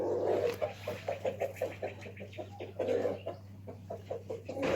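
Small chickens, a rooster with three hens, cluck in a rhythmic series of short calls close by over a steady low hum, with no talking.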